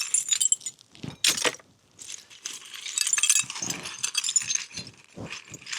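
Broken glass shards clink and rattle in repeated bursts as they are gathered into a bucket in a rotten, messy cabin, with bright jangling clatter close by and short quiet gaps between scoops.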